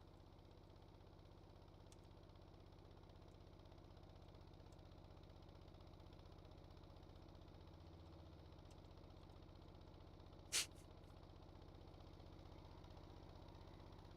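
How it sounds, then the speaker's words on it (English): Video game tractor engine drones steadily as the vehicle drives into water, a constant low mechanical hum with one brief click partway through and no voices. "so I can run my tractor into water"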